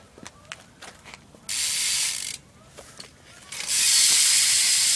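Sharp ratcheting clicks from a bicycle freewheel hub, alternating with loud, buzzy bursts as the hub spins quickly, heard up close.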